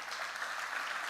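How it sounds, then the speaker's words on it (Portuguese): A church congregation breaks into a short, steady round of applause, a dense wash of clapping filling the room with no talk over it. "dando uma salva de palmas para o nosso Senhor"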